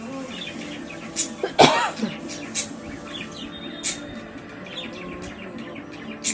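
A single close, harsh cough bursts out once amid quiet room sound, with faint bird chirps outside and a few small clicks before and after.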